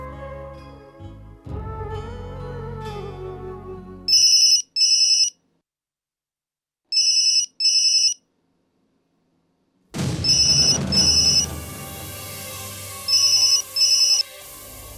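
A mobile phone ringtone for an incoming call chirps in short, bright double bursts, each pair repeated after a gap, with dramatic background music swelling between and under the later rings.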